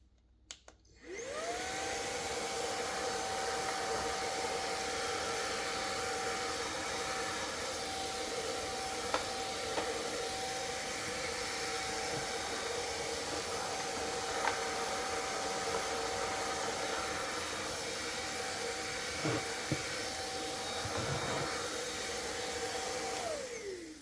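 A cordless vacuum cleaner works along dusty baseboards with cobwebs. It starts up and then holds a steady, high motor whine with a constant tone, broken by a few faint knocks and scrapes, and no talking.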